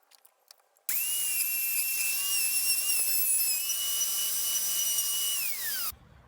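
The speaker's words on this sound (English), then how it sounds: "set the router a bit deeper, and I can use that what's already cut out there as the guide to cut the rest" A router bit plunges about 60 mm deep into reclaimed Douglas fir, cutting a mortise for a large outdoor table; a loud, steady high whine runs for about five seconds, then winds down as the router is switched off.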